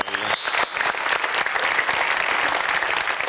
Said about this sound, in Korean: 박수 한번 보내주시기